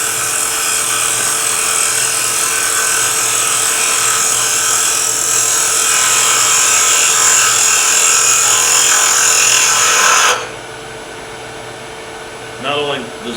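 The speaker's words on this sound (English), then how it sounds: "I'm going to take my skew chisel and just take a little mass off of here and make it a little thinner." Skew chisel shaving a small miniature spinning on a wood lathe: a steady, loud motor hum with a bright cutting hiss that runs continuously, then stops abruptly, leaving a quiet room with a faint knock near the end.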